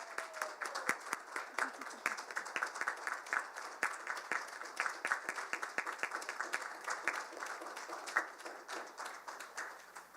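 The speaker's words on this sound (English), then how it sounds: "Let's give one more round of applause to the class of 2023" An audience at an audiology white coat ceremony applauds the graduating class: a sustained run of crisp, overlapping hand claps with a steady rhythm, moderately distant and continuing for roughly ten seconds with no talking over it.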